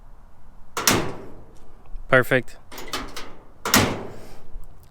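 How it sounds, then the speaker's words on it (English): A door on a vintage Ford hot rod shuts with a solid thunk, followed by a second closing sound, while a person speaks briefly between them. "So off camera, I got this door shutting"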